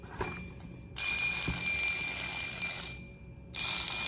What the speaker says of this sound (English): I'm just going to let you hear the bell